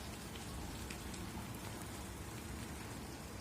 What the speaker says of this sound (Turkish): şimdi burada da yağmurdu